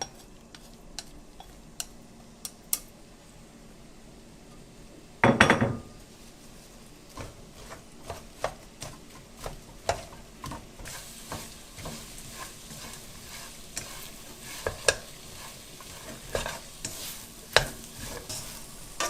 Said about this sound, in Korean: 프라이팬에다가 기름을 좀 넉넉하게 부어주시고요. 불을 너무 센 불로 하면 타니까 중불로 할게요.